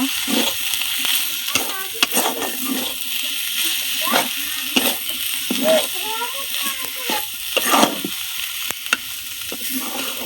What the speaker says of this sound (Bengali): ভাজা জিরা তা এখন একটু লাইরা নিব